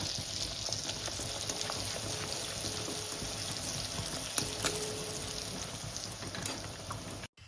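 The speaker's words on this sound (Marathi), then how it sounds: "मी आता तो काढते आणि तेलामध्ये छान फ्राय करून घेते" Rolled bhatura bread frying in hot oil over a medium gas flame makes a steady, dense bubbling sizzle that runs throughout at close range, with no talk.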